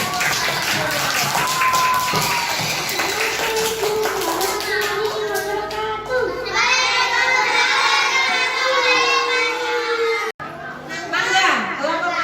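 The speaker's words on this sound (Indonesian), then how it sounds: "sekarang kita beri tepuk tangan dulu teman kita yang sudah berani maju" A classroom of children claps together for a classmate, a dense sustained burst of applause mixed with chatter and kids' voices, nearly all the way through with a brief break near the end.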